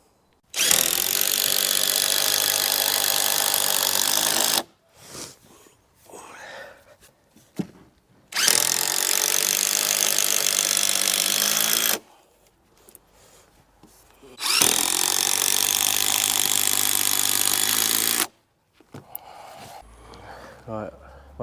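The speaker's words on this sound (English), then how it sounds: "So let's drill that in now." A power drill whirs in three long, loud bursts driving into the wood of a decking frame, with short pauses of rustling and handling between them.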